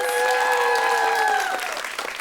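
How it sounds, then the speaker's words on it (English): Applause from an audience for two competing schools at a televised quiz competition, brisk dense clapping under a bright sustained whistling tone, fading slightly at the close. "Big round of applause for both schools."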